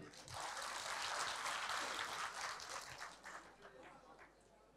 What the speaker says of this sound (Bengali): প্রবাসীদের জন্য জোরে একটা হাততালি